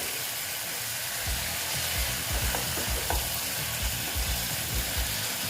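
Ash gourd curry stirred and fried in a pan: a steady, close sizzle runs throughout, broken by repeated soft scraping strokes of the spoon, with no voices.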